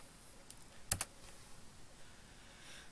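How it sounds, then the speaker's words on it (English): A computer mouse clicks the record button in music software: two quick, faint, close clicks just under a second in, against quiet room tone. "Click on the record button."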